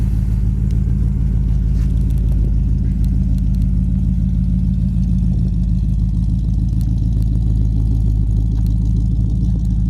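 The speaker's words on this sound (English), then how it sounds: "Dual exhaust just has a nice sound to it. Little rumble" Steady low rumble of a 1972 Buick Skylark GS engine idling through dual exhaust, a continuous deep throb heard up close with no talking.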